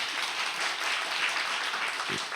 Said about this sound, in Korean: 우리 한 박수로 환영하시겠습니다